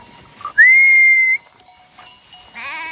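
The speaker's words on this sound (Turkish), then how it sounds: "Büyük ihtimalle bu bir haftalık kuzu." A week-old lamb grazing with a flock of sheep gives one clear, high, sustained bleat close by, followed by quiet rustling and a softer, wavering call near the end.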